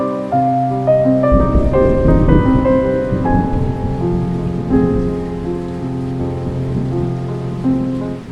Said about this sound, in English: The sounds of rain, soft, steady, calming.